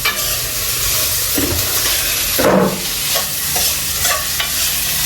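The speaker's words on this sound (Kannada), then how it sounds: "ಟೊಮೆಟೊ, ಆನಿಯನ್ ಎಲ್ಲ ಹಾಕಿ ಫ್ರೈ ಮಾಡ್ತಿದ್ದಾರೆ" Tomato and onion with masala fry in a pan with a steady, close sizzle and hiss, broken by several scraping stirs.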